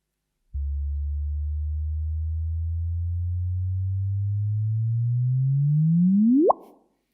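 A gravitational wave sonified as a pure tone: a low steady hum that begins quietly, swells slowly in pitch and loudness over several seconds, then sweeps sharply upward into a brief chirp and cuts off.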